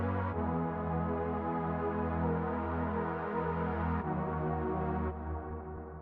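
Sustained bigroom synth pad playing thick chords that shift every couple of seconds, dense and low-heavy, steady in level and heard alone without any voices.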